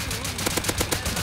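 Rapid burst of gunfire in the game Rust, about half a dozen sharp shots in quick succession, loud and close.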